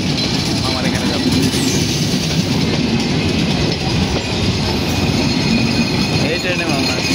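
A train rolls past close by with a continuous loud rumble and clickety-clack of wheels on rails that holds steady throughout, while people talk faintly underneath.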